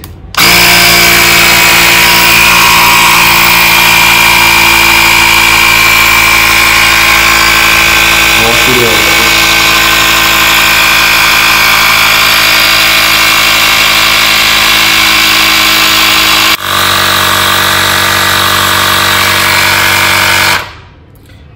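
A TUSA cordless tire inflator pumps air into a tire with a loud, steady motorized buzz. It runs continuously for about twenty seconds, shifts slightly in tone partway through, then cuts off.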